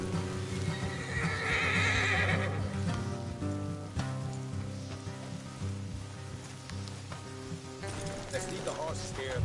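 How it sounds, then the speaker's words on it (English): Horses whinny loudly in the video game Red Dead Redemption 2 over steady hoofbeats clip-clopping, with music and a patter like rain underneath, continuing throughout. "Let's leave the horses here and go the rest on foot."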